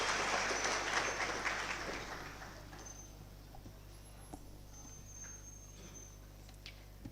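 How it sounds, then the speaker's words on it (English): Audience applause at a university public lecture hall welcoming Professor Singh, starting as a dense, fairly loud patter of clapping that gradually thins and fades into a quieter room over several seconds. "Can we give Professor Singh a round of applause as she comes to introduce the guest speaker?"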